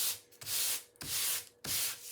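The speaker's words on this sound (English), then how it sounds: "crumple it up and we'll do a little sanding on it" Three quick strokes of crumpled sandpaper rubbing back and forth on waxed paper, close and rasping, with brief pauses between.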